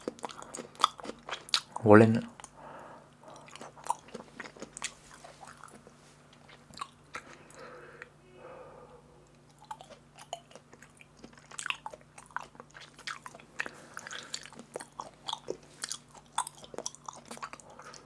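Close, quiet wet chewing and soft biting of raw beef sashimi eaten alone indoors, with irregular mouth clicks and squishes running throughout while someone talks softly between bites.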